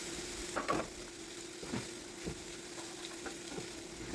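Cabbage and carrots stir-fried in a pan, a soft steady sizzle with a few scraping stirs at irregular intervals, fairly quiet and close, no voices.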